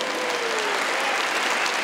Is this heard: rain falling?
no